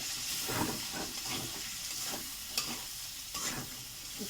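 Mixed vegetables with turmeric and salt sizzle in a pan while being stirred and sautéed, a steady hissing fry broken by repeated scraping strokes and a few sharp spatters, close and without talk.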